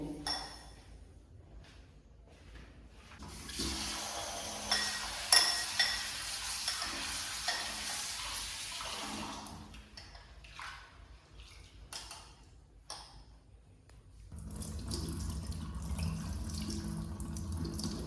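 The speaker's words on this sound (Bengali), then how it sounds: "এখন আমি এই যে সাবুদানাটা ভালো করে ধুয়ে নেব" Coarse sago pearls, for a sago payesh, are rinsed under running water, giving a steady splash and swish of tap water and grains stirred by hand, louder in the middle and easing off, then a broader wash near the end.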